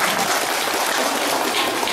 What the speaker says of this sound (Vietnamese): Xin cộng đoàn chúng ta cho một tràng vỗ tay để cảm ơn